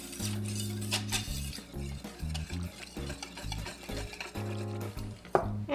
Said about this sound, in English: we'll whisk this in